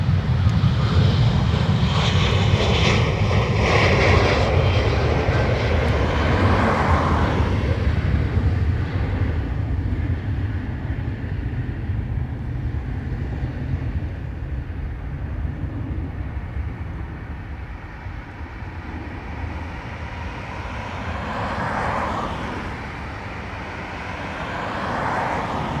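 A jet airliner roars in loud and close as it lands on runway 28 right at Dublin Airport, the broad engine rumble swelling at the start and then easing into a long, steady fading drone.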